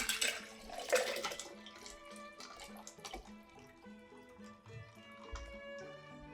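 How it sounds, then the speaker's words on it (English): Ice water is poured over lemon sugar in a pitcher while making lemonade, a steady close splashing and trickling that runs throughout with small bubbling and dripping. "Top it off with some ice water."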